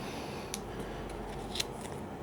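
Scissors snip through kinesio tape, two quick sharp cuts about a second apart, close and clear against a quiet room.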